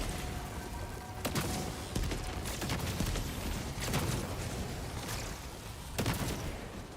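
Scattered bursts of gunfire in a shooter video game, several sharp shots spread across the clip over a steady noisy background, moderately loud with no talk.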